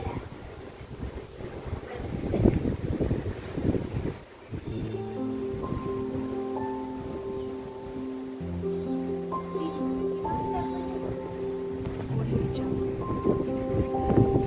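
Gusty wind on a hill at Vagamon buffets and rumbles loudly for the first few seconds, then a softer windy roar continues beneath steady tonal music.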